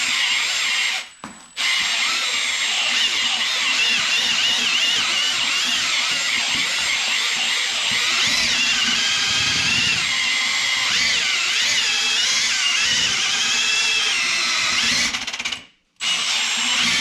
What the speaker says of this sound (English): You do want a good drill because it does have a lot of torque on it.